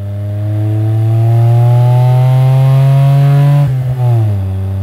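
A DeLorean engine fitted with the owners' club exhaust hums close and loud with a steady, resonant drone. Its pitch climbs gradually, then briefly wavers and dips near the end as the revs drop.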